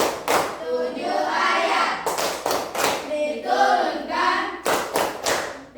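Children and a teacher in an Islamic religious class clap rhythmically through a clapping chant, sharp claps landing in bursts between stretches of chanted speech.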